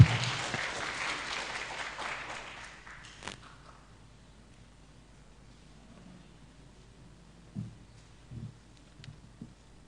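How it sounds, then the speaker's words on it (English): Applause from an audience at a public discourse session greets a speaker. The clapping is loudest at the start and fades out within a few seconds, followed by near silence with a few faint knocks and rustles. "Please welcome her with our claps."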